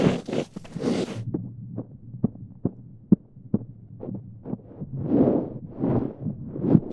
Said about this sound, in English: You just have a clean snow sound.